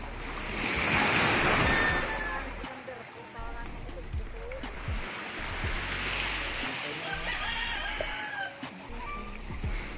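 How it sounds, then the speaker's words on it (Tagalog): Strong ocean waves wash onto the shore in a loud continuous roar with rising surges, while roosters crow and chickens cluck nearby and people talk over the surf. "Lakas ng alon mga Kalingap."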